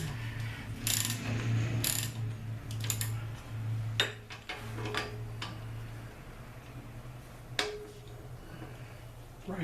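A ratchet wrench tightening bolts on the rear brakes of a 2013 Chevy Avalanche gives off sharp clicking bursts and scattered ticks over a steady low hum. The clicks are close and moderately loud, with pauses between runs.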